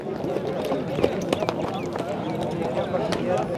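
A horse at a livestock market, hooves clip-clopping in irregular knocks on the ground under busy crowd chatter and nearby talk.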